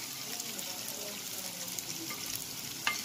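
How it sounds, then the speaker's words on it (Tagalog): Salted eggs and garlic sauté in a pan, a steady close sizzle and crackle with a brief sharp tap near the end. "Igigisa lang ito ng konti."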